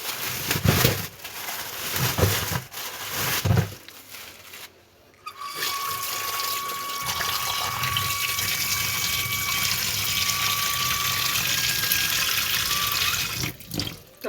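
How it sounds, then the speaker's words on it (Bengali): Kitchen items are washed clean under a running tap in a home kitchen, water gushing steadily into a sink with clatter and handling sounds, close and continuous. "এগুলো ধুয়ে পরিষ্কার করে নিতে হবে।"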